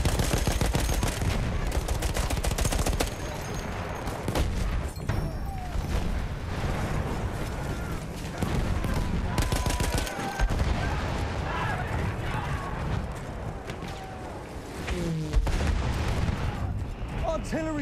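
Battlefield 1 multiplayer battle with rapid bursts of gunfire and machine-gun rattle, heavy artillery booms, and dense continuous combat noise, voices talking over the din.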